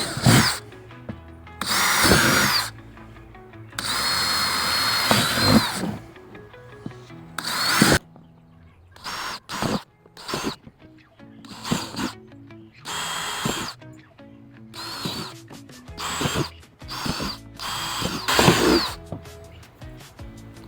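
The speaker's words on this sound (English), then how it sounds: "we're going to drill all into the low spot" A power drill with a 1/4-inch bit whirs in repeated short bursts, boring hole after hole into a 5-gallon plastic tote with quiet pauses in between, close and fairly loud.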